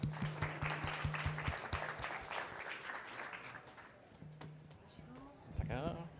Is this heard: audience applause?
yes